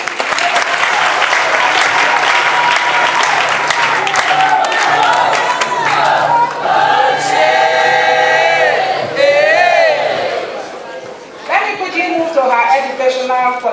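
A crowd applauds steadily at a political event where a senator unveils his running mate, with loud, continuous clapping and occasional cheers as a voice talks over it throughout.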